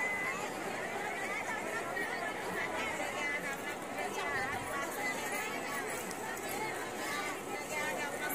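Pilgrims crowd the foot of the Jejuri temple during Champashashti, their steady babble of many voices filling the air, near and continuous, with footsteps and bustle underneath.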